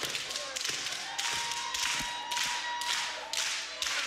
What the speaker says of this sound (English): These fans using these leather straps almost like clapping